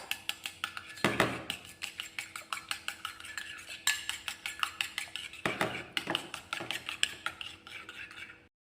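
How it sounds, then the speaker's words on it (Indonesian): Egg yolk whisked in a bowl with a utensil, producing a fast, regular run of close metallic taps and clicks against the bowl, with a few brief pauses, and no one speaking. "ini kuning telur kita kocok lepas"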